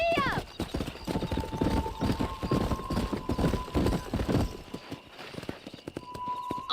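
Horse hooves clip-clop at a steady gallop in the Western video game Red Dead Redemption, under continuous talking.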